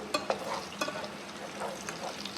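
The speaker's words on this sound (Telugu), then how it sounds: "ఎగ్ మొత్తం ఒక సైడ్ ఇందాక ఉడికింది కదా, ఇప్పుడు రెండో సైడ్ తిప్పేసుకోవాలి." A fried egg is flipped in a hot pan for an Andhra-style spicy egg curry, giving a steady sizzle of frying with a few sharp scrapes and taps from the spatula.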